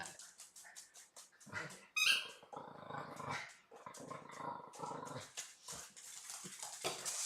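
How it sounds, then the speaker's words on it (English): A dog makes a series of close growls, whines and whimpers, rising and falling in uneven bursts, with a louder yelp around the middle. "Enjoy hearing dogs make crazy noises in the background when people play games"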